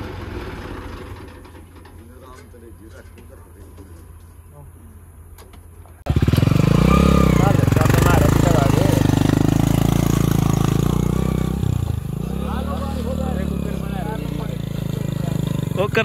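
A motorcycle engine is started and then revved hard, a sudden loud roar rising and falling in surges after a quieter stretch, close by, with voices talking over it.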